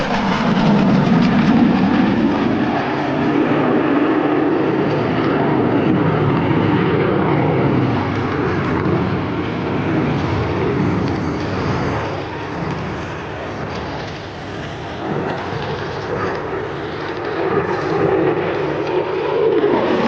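An F-16 Fighting Falcon fighter jet flies a demonstration at the Sun 'n Fun 2025 air show, its engine a loud, sustained broadband roar that swells and shifts in pitch as it passes, filling the whole stretch without speech.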